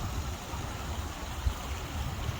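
Wood Creek water flowing out through a canal culvert on the old Erie Canal during high water, a steady close rushing and gurgling with no talking.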